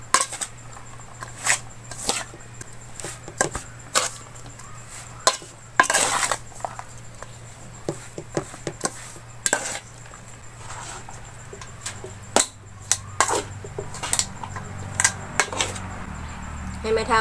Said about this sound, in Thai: แล้วก็ขลุ่นให้มันเข้ากันเลยเนาะ